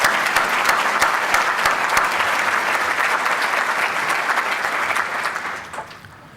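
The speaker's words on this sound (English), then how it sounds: "Another huge round of applause for Larry and Norm and the whole team" A breakfast event crowd gives a big, sustained round of applause, loud and even throughout, fading out near the end.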